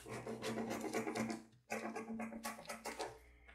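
Scissors snip through a paper sewing pattern for a kimono set, giving a close, quiet run of crisp cutting strokes with a short pause partway through.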